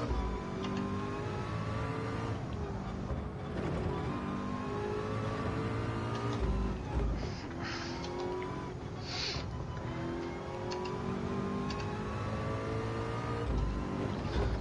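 A car engine roars and revs continuously in a VR racing game, rising and falling as it shifts through gears on a track, loud and steady with no talking.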